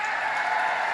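An audience applauds during a political speech, a dense continuous wash of clapping at moderate loudness that holds steady throughout.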